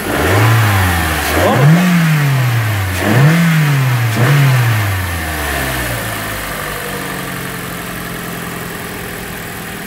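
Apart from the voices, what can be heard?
Toyota Corolla engine revving after engine swap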